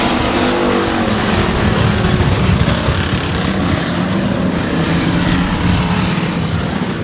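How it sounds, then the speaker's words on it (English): Race cars at speed on a short oval under green flag racing, a loud continuous roar of many engines filling the whole stretch with no let-up. "It's green flag racing."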